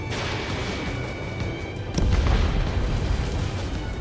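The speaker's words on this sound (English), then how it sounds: "Missile away. Target destroyed." A missile explosion destroying a target in the Ace Combat 7 flight game: a sudden deep boom about halfway through swells into a sustained rumbling roar over constant jet engine noise.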